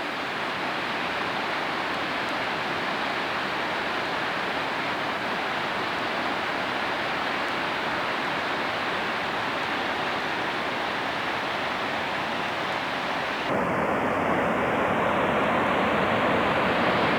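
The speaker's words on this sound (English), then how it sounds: "Just a few feet over, and a little bit further away, the river going downhill." A river rushes downhill near waterfalls beneath steep cliffs at Pierre Grey's Lakes, Grande Cache, making a loud, steady roar of white noise that fills the whole clip, with a slight shift in tone near the end.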